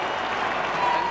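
A 1991 Australian football preliminary final crowd roars and applauds after a goal, a dense, steady mass of cheering from a big stadium throughout the short moment.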